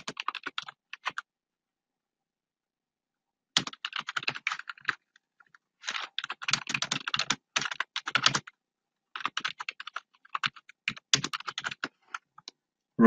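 Typing HTML code on a computer keyboard: bursts of rapid, close key clicks separated by pauses of silence, steady and crisp with no voices.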